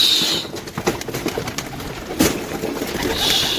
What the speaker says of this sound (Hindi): ये बड़ा बड़ा कबूतर है